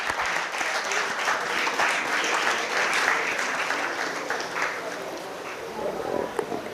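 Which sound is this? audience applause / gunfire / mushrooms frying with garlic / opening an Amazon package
audience applause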